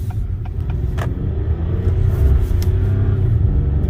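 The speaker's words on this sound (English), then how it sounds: "Like if you're just cruising and you punch it, like this thing's got some way more giddy up and go in the low RPMs." An Acura TLX SH-AWD 2.0T accelerating hard from low RPM, its deep engine rumble building steadily and growing louder in the cabin, with a few light clicks early on and no talking.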